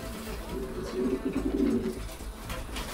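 Racing pigeons coo in a loft after a one-loft race from Usedom on the Baltic coast, a close, throaty burbling swell that peaks mid-clip over a low background murmur.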